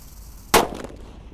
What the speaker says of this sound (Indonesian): Lanjut kita akan menyalakan mercon disco yang warna merah ya, happy flower.